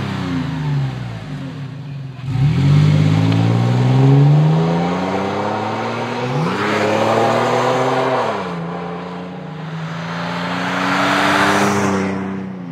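Toyota 4Runner 4.0L from 2009-14 fitted with a Force II cat-back exhaust, heard from outside revving up and easing off in several loud sweeping rises.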